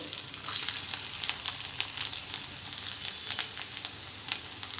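Steady crackling sizzle of chopped garlic frying in hot oil with tempering seeds, with sharp pops scattered throughout; no voices, close and continuous.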